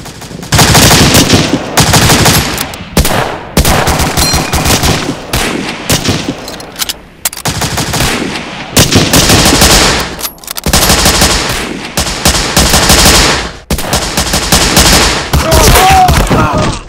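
Loud, close machine gun fire in a LEGO D-Day paratrooper brickfilm: long rattling bursts, nearly continuous, separated by a few brief pauses.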